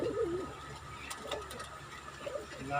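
Pigeons coo nearby in a loft, soft rolling coos at the start and again near the end, with a few light knocks and rustles in between, fairly quiet overall.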